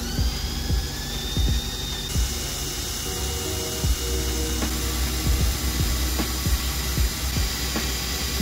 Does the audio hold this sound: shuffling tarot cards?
no